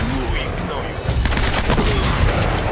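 Gunfire in the Uncharted video game, a dense burst of rapid shots over a busy battle soundscape, louder and heavier in the second half.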